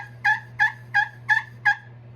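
Slate turkey call with maple backing worked by a striker, giving five sharp, evenly spaced yelps close up over a steady low hum, with no talking.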